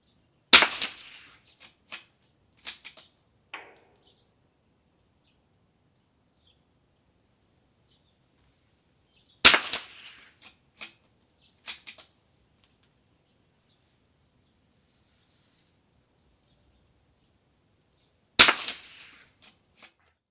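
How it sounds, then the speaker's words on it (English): Small-bore rifle shots at an outdoor NRL22 match range, fired to warm and foul the barrel: sharp, moderately distant cracks with short echoes, arriving in spaced clusters of two or three with long silences between. "I'm going to go ahead and get my gun warmed up and dirty"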